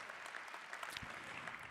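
Audience applause at a solar car race awards ceremony, a dense, continuous patter of many hands clapping, heard faint and distant throughout.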